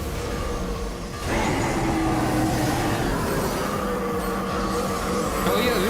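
Metal wheels screeching and squealing on rails in Final Fantasy XIV Dawntrail, a continuous loud rumbling roar that swells after a brief dip and holds steady, with high whining tones near the end.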